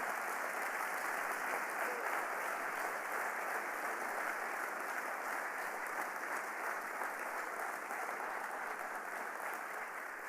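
A church congregation applauding for Jesus during a sermon, sustained dense clapping from many hands filling the room at an even loudness from start to finish.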